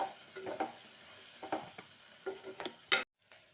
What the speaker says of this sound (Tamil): கோதுமை ரவாவையும் போட்டு கொஞ்சம் லைட்டாக இதோட வறுத்துனுட்டோம்